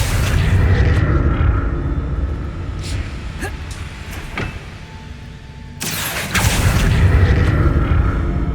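A Confringo blasting curse in Hogwarts Legacy goes off as a loud, booming burst, followed by a sudden crash partway through, set over dense game ambience and rumble.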